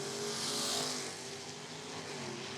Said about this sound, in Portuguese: adrenalina de motor de Drag Race Series 2026